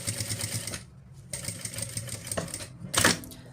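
A sewing machine stitches a seam on a toiletry bag, its fast needle chatter running in bursts with brief pauses between runs and a louder mechanical clunk near the end, close and steady.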